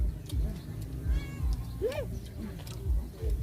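Cat meowing at an outdoor meal of grilled fish, with one rising-falling meow near the middle, clear over background chatter and clatter.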